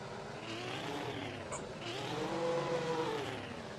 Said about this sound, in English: Cars are revving their engines